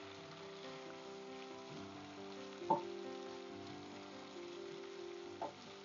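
Vegetables roasting in a pressure cooker pot beside lamb shank, giving a soft continuous sizzle and crackle, faint and steady, with two brief louder stirring clatters.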